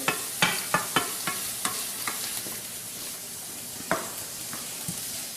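Food cooks on a stovetop with a soft steady sizzle, while a series of light clicks and taps from a utensil against the pan come in a loose rhythm, close by and without talking.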